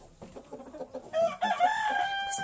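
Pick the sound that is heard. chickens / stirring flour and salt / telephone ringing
chickens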